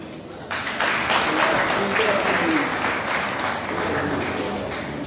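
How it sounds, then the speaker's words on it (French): Audience applause at a school quiz final between two schools. Dense clapping swells after a brief quieter start and stays steady, with voices mixed in. "je vous invite de l'accorder un show d'applaudissements"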